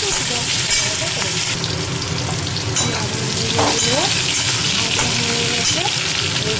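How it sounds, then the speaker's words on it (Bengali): Steamed vegetables fry and are stirred in oil with whole white cumin in a pan, giving a continuous loud sizzle with scraping stirs throughout. "ওগুলোকে নাড়াচাড়া করে একটু ভাজা করে"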